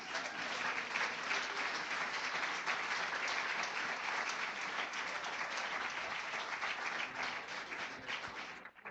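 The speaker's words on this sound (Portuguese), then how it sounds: "Dê um aplauso para Jesus." A church congregation claps in sustained, dense applause that fills the room at an even level for about nine seconds before tapering off at the end.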